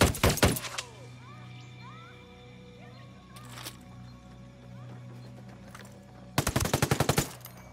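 Gunfire in Ghost Recon Wildlands, the Fallen Ghost expansion: a loud rapid burst of shots opens, a short single report comes midway, and another fast burst closes it, with a low steady ambient hum between.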